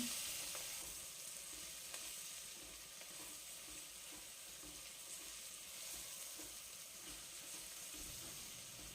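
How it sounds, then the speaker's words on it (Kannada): Vegetables for pulao fry with curry leaves and tomato in a pan, giving a faint, even sizzle with occasional soft stirring taps, steady and low throughout with no voices. "ಇದಕ್ಕೆ ಕರಿಬೇವು ಟೊಮೊಟೊ ಸೇರಿಸ್ಕೊಂಡು ಇನ್ನೊಂದು ಎರಡು ನಿಮಿಷ ಫ್ರೈ ಮಾಡ್ಕೊತೀನಿ"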